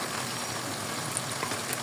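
Onion, ginger and garlic paste fries in a pan for hilsa biryani, a steady close sizzle with faint crackles and pops.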